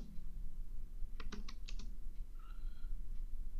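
Rapid keystrokes on a computer keyboard while a macro is written in Excel VBA, a quick burst of close, crisp clicks followed by a few softer taps over a steady low background hum.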